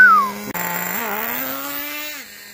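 A Traxxas Jato 3.3 nitro RC car takes off, its small nitro engine jumping from idle into a loud, high, buzzing rev that rises and holds for a couple of seconds, then drops away, heard up close.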